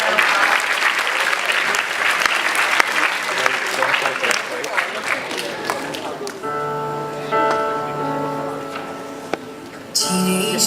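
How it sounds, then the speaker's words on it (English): Audience applause in a Christmas chapel service, dense clapping for about six seconds before thinning out as music with sustained tones takes over, a brief burst returning near the end. "Please give a round of applause."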